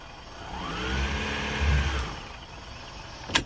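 Outboard engine on a boat held on a lift, revved while its gearcase fails to turn the prop, gives a steady mid-pitched drone that rises and swells mid-clip, then fades, with a brief knock at the end.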